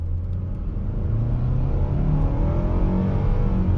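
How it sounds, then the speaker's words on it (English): A 2021 Nissan Rogue S with a CVT pulls away from a stop, its engine a loud, steady droning rumble that rises smoothly in pitch through simulated gear steps, heard from inside the cabin without talk. "I'm going to come to a complete stop real quick, and then on throttle."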